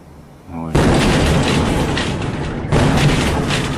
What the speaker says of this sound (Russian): Это звуковая волна, астероид.